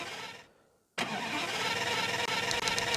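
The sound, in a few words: aircraft engine starting in flight simulator video game RFS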